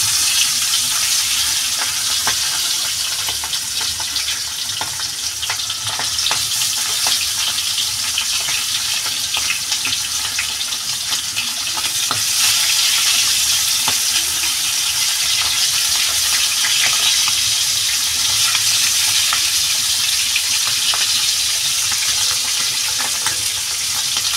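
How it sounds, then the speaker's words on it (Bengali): Hilsa fish sizzling in hot oil in a Bengali home kitchen, a steady loud crackle running unbroken throughout with occasional faint clinks and stirring, no talking. "এবার আমি ইলিশ মাছটা ভেজে নেব।"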